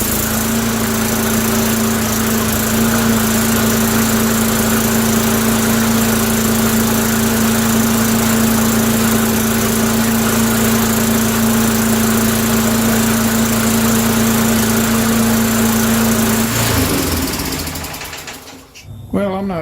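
A Kobalt 80V Gen 2 cordless electric lawn mower runs with a steady, loud motor whir and constant mechanical hum, then cuts out near the end, leaving brief quieter rustling.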